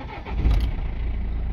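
A BMW E46 car engine starts right away and settles into a steady idle, loud and close throughout the short stretch.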